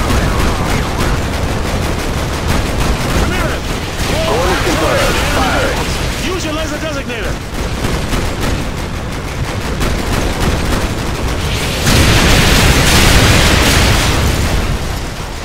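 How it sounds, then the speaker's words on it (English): Artillery strike explosions and rattling gunfire in Call of Duty Modern Warfare 2, loud and continuous booms and bursts filling the scene, with voices talking over the barrage. "Artillery inbound."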